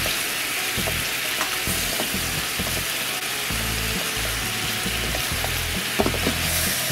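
Pork slices frying in a pan for a pork stamina rice bowl, with a steady close sizzle and frequent clacks and scrapes of a utensil turning the meat, no voices.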